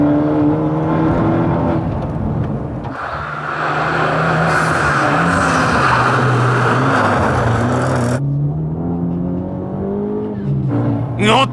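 A Honda Civic Type R FK8 and a Toyota Supra SZ, both 2-litre turbo cars, race hard on a mountain pass, their engines droning loud and close with rising and falling revs as they accelerate through corners.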